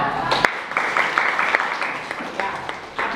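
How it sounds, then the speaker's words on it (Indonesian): A classroom of vocational school students claps in applause, a brisk, dense patter of hands with a few louder claps, with voices audible in the room. "Oke, silakan tepuk tangan."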